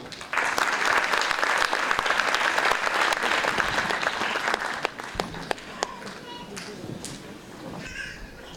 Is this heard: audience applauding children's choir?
yes